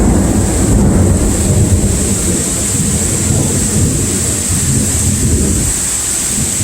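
Heavy rain pours steadily with a deep rumbling roar of thunder throughout a Hurricane Dorian storm beside a road and a parked camper, loud and continuous with wind buffeting the microphone.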